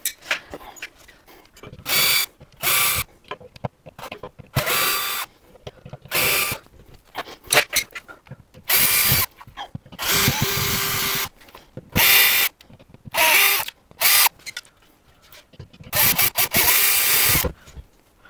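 A power drill unscrewing the screws of a ceiling projector mount, loud close bursts of whining motor and ratcheting that start and stop repeatedly, separated by short quiet gaps.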